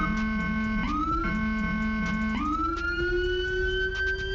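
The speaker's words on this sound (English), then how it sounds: "And to cycle through the sirens, you'll press the B key." A video game police vehicle's siren cycles through wailing tones. Steady rising and falling sweeps repeat several times, then shift into a long, slow rising wail, all loud and continuous with no talk.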